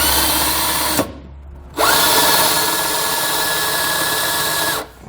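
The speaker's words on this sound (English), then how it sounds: "we just want to grab one of our provided self-tappers." A power drill drives a self-tapping screw into hardened steel on a vehicle for trailer wiring: a loud, close whine bursts briefly, stops, then runs again for about three seconds at a steady pitch before winding down.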